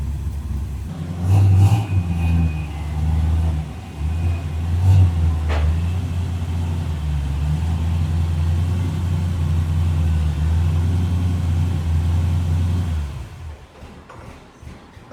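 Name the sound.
old Ford engine idling and revving, worn carburetors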